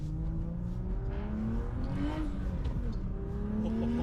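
Turbocharged BMW engine revving, rising and falling tones with a climbing whine in one long pull, moderately distant and fairly quiet, with no talk.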